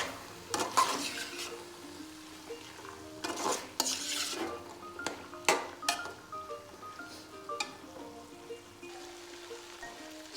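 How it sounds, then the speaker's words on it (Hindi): Meat and peas frying together in a pan, a steady crackling sizzle with repeated spatula scrapes and clanks against the pan, some strokes loud and close, others lighter, and no voices. "अब इसमें हम मटर ऐड कर देंगे ताकि गोश्त के साथ हमारे मटर भी फ्राई हो जाएं"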